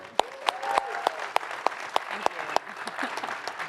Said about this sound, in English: let's get a round of applause for Dev Containers Frogger here